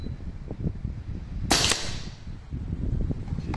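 A single sharp crack from a Foster F290 bullpup PCP air rifle in 6.35 calibre rings out close by, a short burst that fades quickly against quiet background noise.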